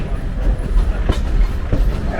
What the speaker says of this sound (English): the train crosses over at a slow speed to reduce